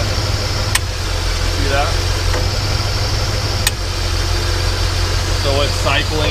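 A 1966 Ford F100 engine idles steadily with a low rumbling hum while two sharp clicks mark the AC compressor clutch engaging; a voice speaks briefly.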